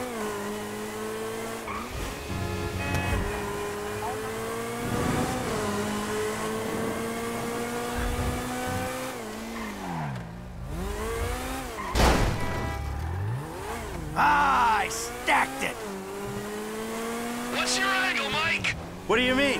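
Engines in a Grand Theft Auto V race rev and roar as gears shift, with tyres squealing and skidding, loud and continuous under occasional game sounds.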